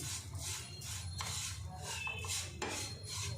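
A spoon scraping and stirring grated dry coconut with sugar in a pan, soft gritty rubbing strokes repeated close by at low volume.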